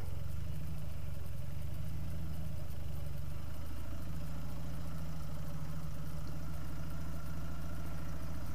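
A refurbished 1957 Douglas Dragonfly motorcycle engine idles steadily on a lawn, a low even throb with a light mechanical clatter running throughout, close by and alone with no talk.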